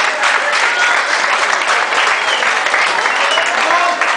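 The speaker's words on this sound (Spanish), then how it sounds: "que se oiga el aplauso" The crowd at an amateur boxing event in Oaxaca claps loudly as fighters are called to the ring. The applause is sustained and dense from start to finish, with scattered voices and cheers mixed through it.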